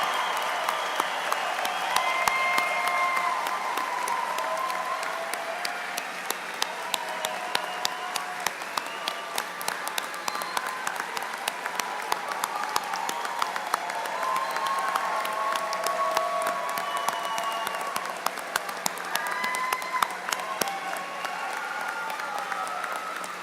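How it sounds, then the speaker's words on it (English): The University of Indianapolis commencement audience applauds the graduating class of 2026 in long, sustained clapping, with scattered cheers rising above the dense crowd throughout. "Will you please join me in a round of applause?"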